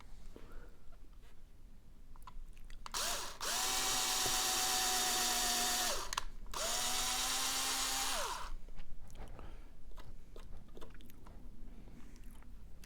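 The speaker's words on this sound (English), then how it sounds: "So I'm just going to go ahead and re-drill a pilot hole." A power drill re-drills a pilot hole for a screw in a Squier Stratocaster pickguard, whirring loudly in two steady bursts of a few seconds each with a short pause between, amid quiet handling noise.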